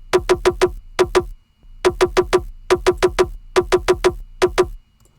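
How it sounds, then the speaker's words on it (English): Dry, tonal percussion hits repeat in quick groups of four with short pauses between, crisp and close with no effects. "I use a percussion sound, and this is what it sounds like with zero processing."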